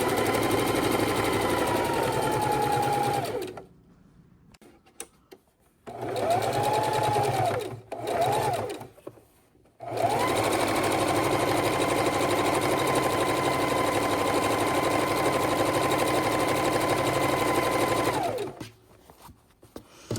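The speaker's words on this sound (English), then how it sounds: "what we're doing is just making that seam line on the very outside of the Dignity Bib to finish the look" A sewing machine stitches the outer edge seam of an adult dignity bib in long, steady motor runs broken by a few short stops and brief pulses, close and loud, with no talking.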